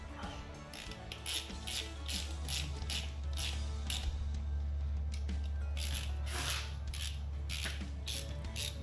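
Bolts being snugged up while mounting the A/C compressor and power steering on a Coyote-engined Cobra, a ratchet clicking in quick repeated runs over a low steady hum, fairly quiet and without speech.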